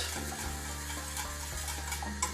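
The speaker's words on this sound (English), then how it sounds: "And I want you to keep on stirring that." A spoon stirs a cold sweet dessert mixture in a pot while it thickens, a steady low scraping and swishing with soft knocks, continuous and fairly close, with no one talking.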